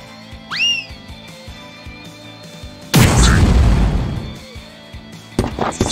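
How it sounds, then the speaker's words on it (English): An impact bomb going off in the role-playing game Grandia II, a rising whistle followed by a loud, sustained booming explosion that fades over a couple of seconds, then a sharp burst near the end over game music. "Here goes my impact bomb!"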